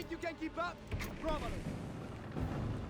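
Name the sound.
tank firing heavily in video game Company of Heroes 3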